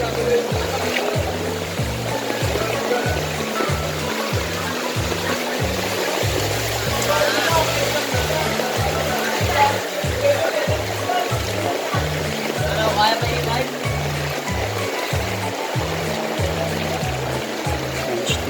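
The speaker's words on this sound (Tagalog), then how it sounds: "lalakarin natin ito hanggang doon sa EDSA. Para makatawid tayo dito sa baha." Footsteps slosh rhythmically through street floodwater during a typhoon, each stride a regular splashing swish over a constant watery wash and distant rumble.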